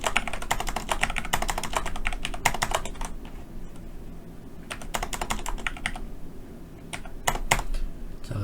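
A string of numbers is typed on a computer keyboard for an Excel exam spreadsheet. The key clicks are rapid and close, coming in quick bursts separated by short pauses.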